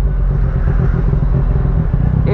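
A motorcycle ridden through busy urban traffic, its steady engine rumble loud and close throughout, with a slight rise near the end and no talking.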